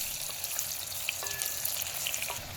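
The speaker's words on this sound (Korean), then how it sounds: "프라이팬에 기름을 넉넉히 두른 뒤에 가지를 볶아줄 겁니다" Eggplant stir-frying in plenty of oil in a frying pan, a dense, steady crackling sizzle heard up close with small pops and spatters throughout.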